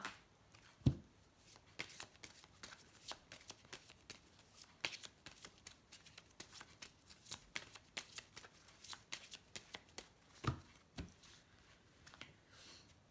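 Oracle cards are shuffled by hand for a love reading, giving a steady run of soft riffling and flicking clicks with a few sharper snaps, quiet and close with no talking.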